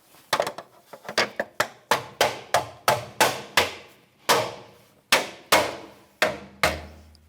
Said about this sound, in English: Now to reinstall the hubcap, you line up the valve stem.